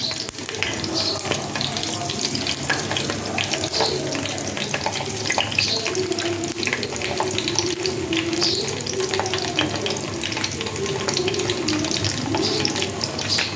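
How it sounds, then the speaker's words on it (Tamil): Brinjal slices fry in oil with curry leaves, a loud, steady, bubbling hiss with rapid crackling that runs close and unbroken from start to finish, nobody speaking. "இது நல்லா ஃப்ரை ஆகட்டும்"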